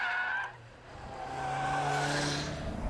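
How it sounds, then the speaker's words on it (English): A turbocharged Vauxhall slides through a corner with its rear letting go, giving an engine roar that fades, then swells again under a rising, high tyre squeal. "Now look at the Vauxhall. It's the back that's letting go."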